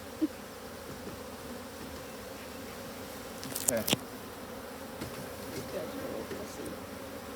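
Steady, dense buzzing of many honeybees close by at an open hive, with a few brief rustles and clicks and one short spoken word.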